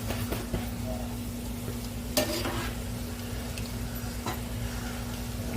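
Sloppy joe mixture stirred in a cast iron pan with brown sugar added, a steady low sizzle with repeated scraping strokes of the spoon, close and moderately loud, with no voices.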